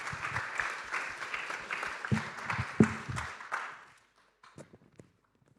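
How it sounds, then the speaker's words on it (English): Audience applauding after a talk at a tech summit, a dense burst of clapping that fades out after about four seconds, followed by a few faint scattered claps and thumps. "please give him a big round of applause."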